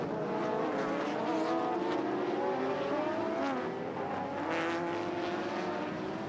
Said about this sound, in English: Toshio Suzuki in the Castrol Supra was first into the first corner